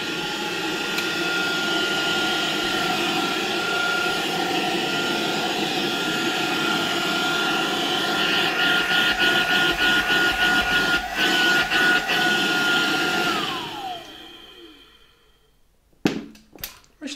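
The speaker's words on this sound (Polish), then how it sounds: "ten odkurzaczek działa dosyć cicho i nie słychać jakiejś nierównej" An old German Siemens Protos Rapid vacuum cleaner runs with a steady, fairly smooth motor drone and airy whoosh, then powers down, the pitch sliding away as it coasts to a stop, followed by a few handling clicks.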